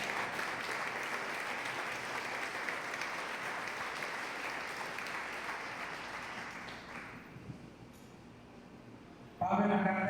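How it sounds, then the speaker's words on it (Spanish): Congregation in a church gives a loud burst of clapping for the Lord during a sermon, a dense sustained wash of applause that fades and thins toward the end before a sudden louder rise. "Dale un fuerte aplauso al Señor."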